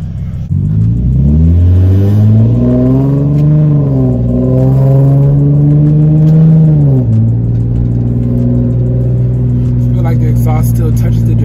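A Nissan 370Z with a custom resonator-deleted single-exit exhaust revs up loudly and close, climbs and holds, then drops back to a deep, steady drone.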